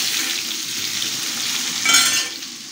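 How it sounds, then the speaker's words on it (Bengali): Potatoes for a meat dish fry in a pan with a steady, close sizzle that swells into louder crackling near the end. "এখানে মাংসর আলু ভাজা হচ্ছে"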